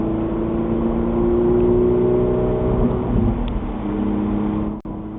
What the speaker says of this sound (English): Accelerating off in sport mode,